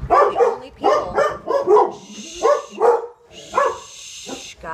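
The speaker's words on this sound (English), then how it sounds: "I'm with a couple dogs here tonight, and they're a little feisty" Several dogs give short, feisty barks in repeated bursts, loud and close, with a few yips mixed in and no talk over them.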